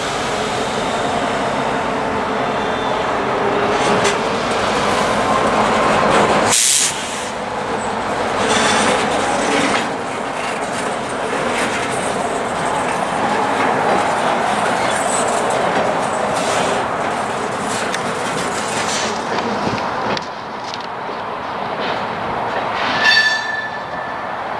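The tail end of a freight train rolls down a city street, a steady close rumble of boxcar wheels with clattering and a brief squeal, continuous for the whole stretch.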